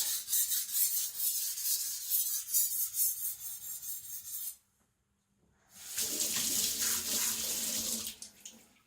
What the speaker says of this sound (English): I can see that I'm sharpening mostly behind the edge.